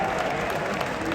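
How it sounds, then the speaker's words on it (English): A baseball crowd cheers and claps for a batter at a New York Yankees spring training game against the Blue Jays, a dense, steady wash of applause and voices with no break across the brief moment. "Even the Yankees fans will give him a cheer."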